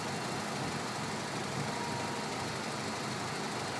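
A small car engine idles at a steady, even rumble with a constant hiss-like wash of noise, close and unchanging, with no voices.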